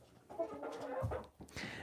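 Backyard hens cluck softly and continuously at close range, giving a brief, busy stretch of murmuring fowl sounds.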